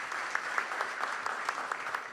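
A church congregation applauding during a Sunday service, a steady, moderately distant patter of many hands clapping, evenly sustained throughout the short burst.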